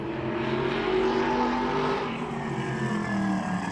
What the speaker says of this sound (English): Joey Jarvis taking the green flag in the 603 Metalworks and Collision Modified.